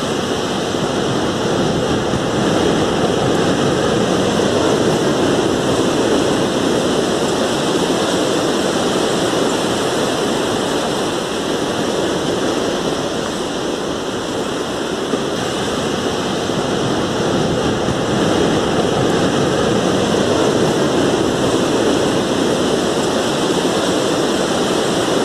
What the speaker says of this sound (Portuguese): É a praia, isso mesmo, barulhinho do mar, gostoso de escutar.